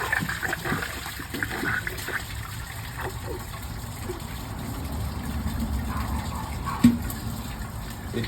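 A comfort-height toilet flushes with a towel laid flat in the bowl, a rushing gush of water followed by steady draining and refill noise, close by, with a voice briefly audible.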